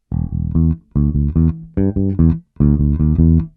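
Guitar plays the opening bar of a funk riff, clean single notes in four tight staccato clusters with brief gaps, close and clear with no talking.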